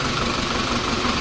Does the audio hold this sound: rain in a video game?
no